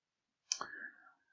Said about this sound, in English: Let's go ahead and click on that.